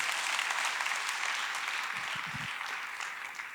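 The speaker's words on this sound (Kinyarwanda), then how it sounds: "amashyi menshi" Sustained applause from a crowd greeting a performer at a celebration event, steady and fairly loud throughout with a brief low voice murmuring near the middle.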